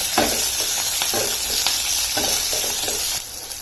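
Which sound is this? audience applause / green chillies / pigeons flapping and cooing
green chillies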